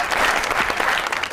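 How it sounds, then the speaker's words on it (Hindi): Studio audience applauding on a comedy talk show, a dense, steady burst of clapping close and fairly loud for just over a second, with no talk over it. "ताली होनी चाहिए।"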